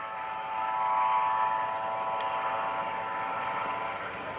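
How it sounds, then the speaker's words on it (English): A Eurocopter EC135 medical helicopter from Hackensack UMC at the 2013 Greenwood Lake airshow runs with a loud, steady turbine whine and rotor drone that holds constant throughout. "this EC-135 has got plenty of it."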